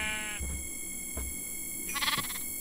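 A baby sheep in Minecraft bleats a couple of times, short and fairly loud, above steady game background noise.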